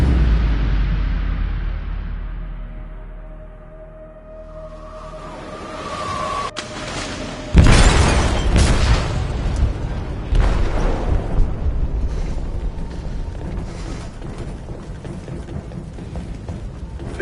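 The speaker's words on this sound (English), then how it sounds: "They detonated an explosive in the hold." An explosive detonating in a ship's hold in the video game Detroit: Become Human: a sudden loud boom follows a fading rumble, then a long roaring, crackling aftermath with debris and rumbling continuing to the end.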